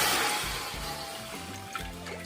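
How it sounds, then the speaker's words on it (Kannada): Water poured into a pan while making rice flour dough for rice kadubu, a steady close splashing trickle for about two seconds with no talk. "ಈಗ ನೀರನ್ನು ಹಾಕುವ"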